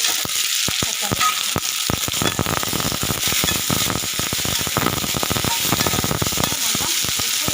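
Two or three tomatoes frying in a hot pan for a spicy South Indian chutney give off a loud, steady sizzle with dense crackling pops, close up and continuous, with no voices heard.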